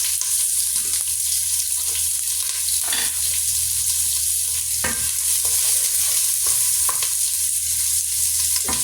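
Onions fry in a pot for a one-pot chicken and rice dish, giving a bright continuous sizzle, with a utensil scraping and stirring through them in several distinct strokes, close and fairly loud.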